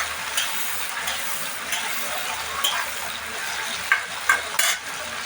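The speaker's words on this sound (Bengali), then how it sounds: "এটাকে নেড়ে ভালো করে মেল্ট করতে হবে" Chopped tomatoes sizzling in a pan while being stirred, a continuous close frying hiss with irregular scraping strokes and a few louder spatula knocks toward the end.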